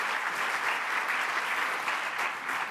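Sustained applause from an audience at a live conversation event with Ree Drummond, a dense, even wash of clapping filling the whole stretch without voices.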